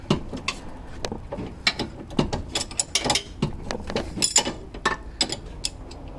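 An open-end wrench turns a sway bar link nut on a 1995 Mercedes W140 S500, giving repeated close metallic ratcheting clicks and clanks in an uneven rhythm, with no talking.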